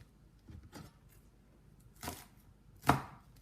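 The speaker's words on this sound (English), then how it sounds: "you need to cut up some leeks" A knife chops leeks on a board in a few separate strokes, quiet and close, the last cut the sharpest.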